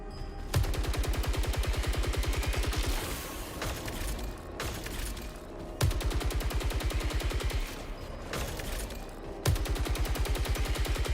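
Tactical rifle and smart rifle fire in Saros, rapid automatic bursts of evenly spaced shots in several long strings, loud and close, separated by short gaps and punctuated by a few heavier cracking blasts.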